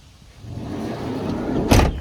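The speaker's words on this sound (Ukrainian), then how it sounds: "Дверки також тихенько закриваються." A 2013 Opel Vivaro passenger van with the 2.0 engine has its door shut softly, giving one muted, close thud near the end after a low hum of background noise.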